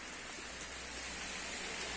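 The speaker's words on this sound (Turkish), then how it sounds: "Yağmur yağıyor." Steady rain falls outside a village house, a dense, even hiss that stays constant with no voices over it.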